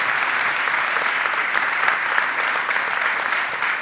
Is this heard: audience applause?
yes